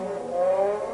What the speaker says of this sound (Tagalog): Ngayon, paandarin natin yung sasakyan.